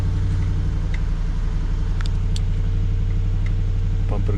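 A Jeep Grand Cherokee SRT8 engine running steadily nearby, a constant low rumble and hum, with a couple of faint clicks and a brief knock near the end.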